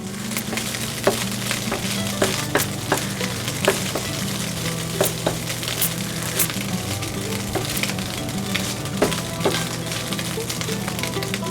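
Spam slices sizzle steadily in a hot pan, a loud, continuous crackling fry with scattered sharp pops and spits throughout, no voices.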